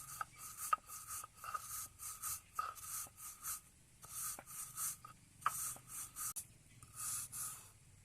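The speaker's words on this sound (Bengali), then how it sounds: "ভুজিয়া চানাচুরটা আমি ভালো করে বেটে নেব।" Fried bhujia chanachur ground by hand on a stone grinding slab, giving close, quiet, rhythmic rasping strokes that repeat steadily at about one per second, with no talking.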